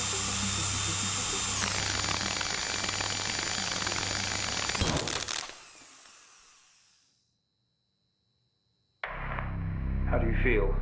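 Power drill whirring loudly in the horror game Stories Untold, running steadily for about five seconds before cutting off into silence, then a different machine-like noise starts up.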